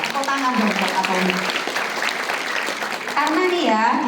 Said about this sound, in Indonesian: Tepuk tangan dong buat Atomi.